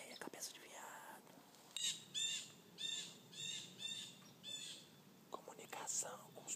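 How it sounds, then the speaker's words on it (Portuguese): Small birds in cerrado-like scrub with twisted trees chirp in short repeated bursts of high, bright calls, fairly close and faint, with insect-like buzzing and a soft whisper in the background. "Comunicação com os passarinhos."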